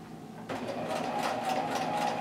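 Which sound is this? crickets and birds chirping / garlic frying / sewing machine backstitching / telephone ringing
sewing machine backstitching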